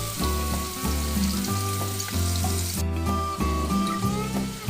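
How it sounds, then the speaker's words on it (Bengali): Potato pieces fry in hot oil for a chicken curry, a continuous bright sizzle heard under loud background music with a steady beat. "এবার একটু আলুটা ভাজা হয়ে যায়, তারপর আমি আবার তোমাদের দেখাচ্ছি।"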